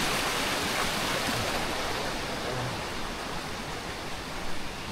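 A clear river flowing beneath a bridge on a jungle trail, giving a steady, broadband rushing wash that stays even and continuous from start to finish, with no voices heard.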